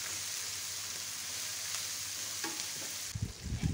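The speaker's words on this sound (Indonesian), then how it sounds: "mulai numis bumbu nih" Spice paste stir-fries in a hot pan, a close, continuous sizzle with crackling, ending in a few soft scraping stirs, no voices.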